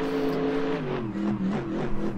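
C5 Corvette drift car in Assetto Corsa, engine held at a sustained high-rev drone that wavers in pitch as the throttle shifts, loud and steady with no talk.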